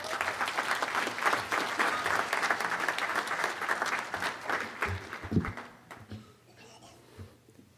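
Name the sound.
applause welcoming Dr. James Leonard at commencement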